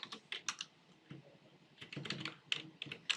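Code being typed on a computer keyboard while building a responsive website in HTML and CSS, with bursts of quick, close key clicks and short pauses between runs.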